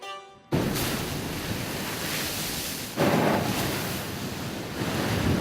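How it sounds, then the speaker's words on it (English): Foamy Caribbean Sea waves break over cliffs on Antigua, a steady roar of surf with wind buffeting the microphone and louder surges as new waves crash, no voices. "The foamy waves of the Caribbean Sea break over magnificent cliffs on the neighboring island of Antigua."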